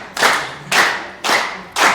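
Audience clapping in unison at a business training seminar: four loud, evenly spaced collective claps about half a second apart, close and without talk.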